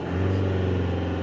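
A Toyota Avensis engine with a loss-of-power fault revs under acceleration, a steady, loud mid-pitched drone with strong low harmonics, heard close with no talk.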